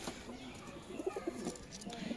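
Pigeons coo in soft, repeated low phrases at a breeder's home loft, a male paired with a short-bodied female, with faint background noise and some murmured voice nearby.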